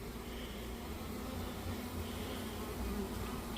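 Honeybees buzz steadily around a newly installed package colony in an AZ hive, a dense, continuous hum close by with no talking over it.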